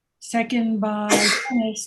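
A sneeze at a town planning board public hearing, caught as a brief burst in the middle of a meeting while people talk on either side of it.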